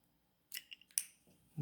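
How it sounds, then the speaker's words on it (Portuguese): Scissors make a few quick, close snips, cutting sides six centimeters long for a triangle demonstration, quiet and brief. "então eu vou cortar dois lados de 6"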